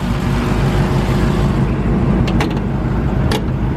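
Jeep SRT Trackhawk driving along, a loud, steady broadband engine and road roar close up, with a couple of faint clicks near the end.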